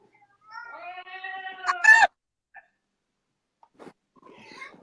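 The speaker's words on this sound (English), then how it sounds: "Alexa, meow." An Alexa smart speaker plays a drawn-out cat meow that rises into a sharp yowl, followed by brief quiet and faint scattered sounds.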